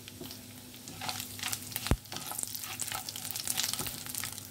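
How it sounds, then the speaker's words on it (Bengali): Cumin seeds, cardamom, cloves, dried chilli and a bay leaf frying in oil, a close crackling sizzle with stirring scrapes and a sharp clack near the middle. "এটা একটু ফ্রাই হবে, একটু হোক শুকনো, জিরেটা একটু ভাজা ভাজা হোক"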